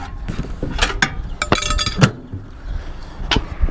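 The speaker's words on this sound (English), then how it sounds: "take out that glass plate." A glass microwave turntable plate clinks and knocks against hard surfaces as it is handled and lifted out of a discarded microwave oven, several sharp taps and scrapes spread irregularly, close up.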